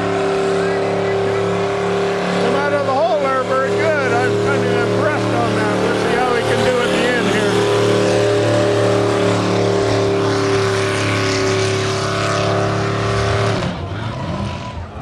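A loud diesel tractor engine roars steadily under heavy strain pulling a sled at a truck pull for about thirteen seconds, then abruptly drops away near the end.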